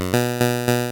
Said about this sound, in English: let's start with VCO1, and I'm going to pull up just a straight up square wave